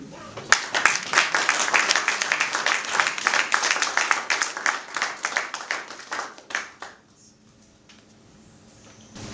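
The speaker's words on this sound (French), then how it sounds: "Mesdames et messieurs, sous vos acclamations, M. Reddy Ntimi" Audience clapping at an association's inaugural evening in Marseille, dense and close, rising quickly then fading around the seventh second into near quiet with a few scattered claps.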